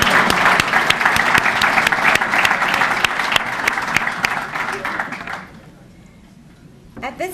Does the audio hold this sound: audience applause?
yes